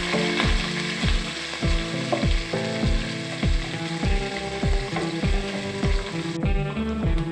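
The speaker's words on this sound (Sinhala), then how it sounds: "රම්පා දැම්මහම තෙල් විසි වෙනවා." Hot oil spattering loudly as pandan and curry leaves are tempered for a carrot dish, a dense crackling sizzle running throughout, with regular rhythmic thuds beneath it.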